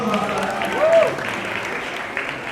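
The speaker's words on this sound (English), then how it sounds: "let's give him a round of applause" A crowd at a YouTube creator day master class in Nairobi breaks into a round of applause, moderately loud clapping that swells briefly and then thins, with a voice rising over it.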